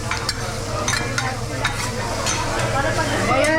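Fried rice with fresh egg stirred in a hot pan, a steady close sizzle with repeated scraping and stirring strokes throughout, no talking.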